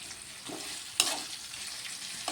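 Coriander, mint and curry leaves are stirred in a frying pan for spinach rice, with a constant soft sizzle, a sharp spoon scrape around the one-second mark and light stirring scratches throughout.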